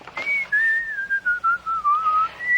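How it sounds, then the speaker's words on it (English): Someone whistles a wavering melody close by, a series of short pitched notes gliding slowly downward and then rising again at the end. "there are two different sets of whistling going on"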